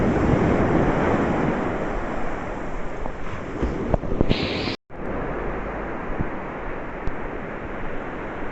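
Ocean waves wash steadily onto a beach in North Goa, a broad continuous roar of surf with wind buffeting the microphone and a brief dropout midway.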